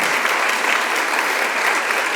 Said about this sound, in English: You're allowed to give yourselves an applause if you want.